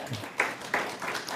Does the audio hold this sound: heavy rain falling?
no